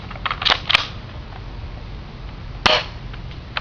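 A TSD SD88 shotgun fired at a target 75 feet away, with sharp, snappy pops: a quick cluster of shots near the start and another crisp report later, over a steady background hiss.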